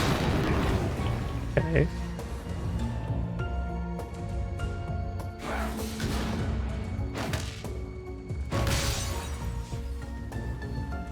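Bombs go off in the roguelite video game Crown Trick, a run of shattering, thudding blasts over dense game music, with a brief spoken word near the start.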